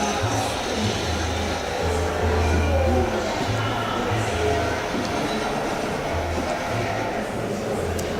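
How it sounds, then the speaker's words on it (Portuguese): A train rolls along tracks laid through a market in Thailand, a rumbling, clattering passage that stays steady and close, with a voice talking over it. "esse trem na Tailândia, ocupação da passagem em convívio com o trem"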